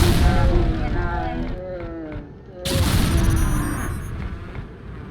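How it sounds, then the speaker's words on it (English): Incendiary rockets fired and exploding in the video game Unreal Bounty Hunter, two heavy booming blasts with roaring, crackling tails, loud and close, the second burst after a brief lull. "when we fire a rocket near an enemy, it will set them on fire and do a little damage over time"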